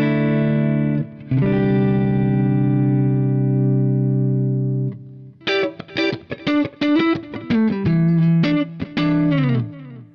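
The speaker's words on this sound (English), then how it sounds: "At the moment, I've just got my guitar going into the pedal," Clean electric guitar played through a Boss Blues Driver BD-2 pedal into an Orange amp on its clean channel: a long sustained chord rings out, then a quick run of rhythmic strummed and picked chords, loud and close with no voices.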